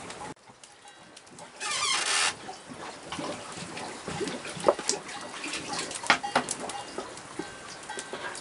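Water runs steadily from a tap into a bucket for washing buckets in a goat-cheese dairy, a continuous close splashing stream with occasional knocks and no talk.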